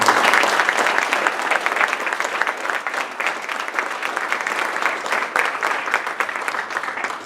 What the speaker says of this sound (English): So a very big round of applause to all of